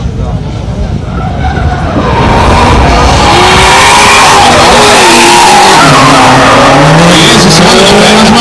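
Drift race cars, one an E30, skid through a pass at the Kartodromo with long wailing tire squeals and roaring engines, very loud and close, under an excited commentator's voice.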